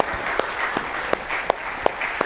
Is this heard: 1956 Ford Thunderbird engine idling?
no